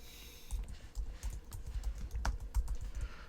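Password keys tapped on a computer keyboard to log into macOS, a quick, close run of clicky keystrokes with a few louder taps, heard alone without talk.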